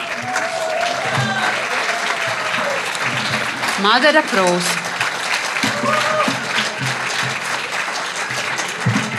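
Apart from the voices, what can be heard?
audience applause at school anniversary ceremony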